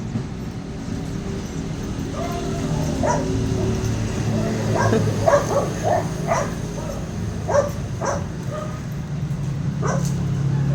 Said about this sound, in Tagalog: May tuta dyan.